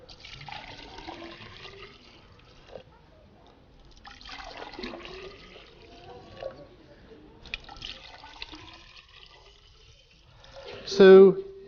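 Liquid is poured from one cylinder into another in a chemistry demonstration, giving soft splashing and trickling in several separate pours, with a brief louder gurgle near the end.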